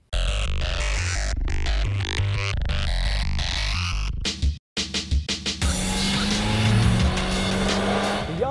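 Toyota Yaris GRMN hot hatchback driven hard, loud engine revs and gear changes with tire squeal and skidding, cut into choppy bursts and brief silences before a sustained high-revving pass.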